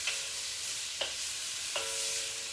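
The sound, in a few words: shrimp stir-frying, stirred in a pan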